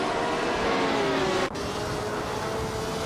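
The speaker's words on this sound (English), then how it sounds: "The race is underway at Feldbergring, and leading the pack is Bot Zenyahima in a slick 1967 Ferrari" A 1967 Ferrari race car engine at Feldbergring in a racing video game, a steady droning whine with layered harmonics that dips briefly midway and then holds on, moderately loud and without talk.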